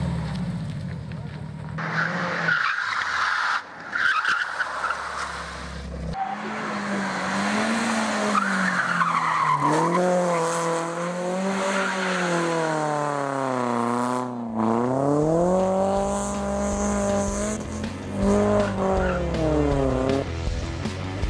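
Rally cars, including Škodas, Subaru and BMW youngtimers, race on the track with loud revving engines climbing and falling through gear changes, tires squealing and skidding, and voices heard at times.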